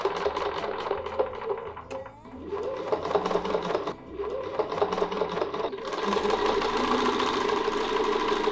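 A sewing machine stitches along a quilting template line in a loud, continuous mechanical whir. It pauses briefly and changes pace partway through, then runs steadily again.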